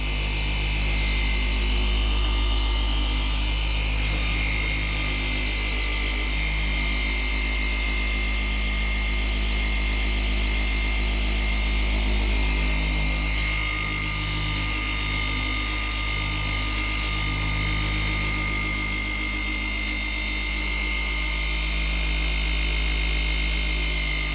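A machine polisher runs steadily for the whole stretch, a loud continuous motor drone with a slight shift midway and no pauses.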